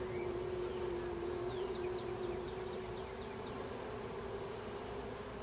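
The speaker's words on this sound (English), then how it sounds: "Maybe a shake of bees on that." Honeybees shaken onto a hive frame buzz in a dense, steady drone close by, a continuous swarm hum with individual bees whining past now and then.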